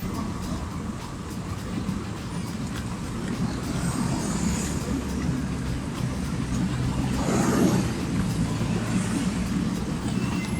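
A city bus rolls past a stop without halting, a steady low engine and road rumble that swells gradually toward the middle, with a brief louder pass and faint background traffic, no talk.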